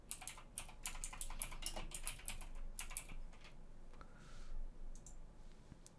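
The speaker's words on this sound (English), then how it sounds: "type control panel" Quiet, quick clicks of typing on a computer keyboard come in a rapid burst of keystrokes, then a pause and a few scattered taps, close and isolated with no talking.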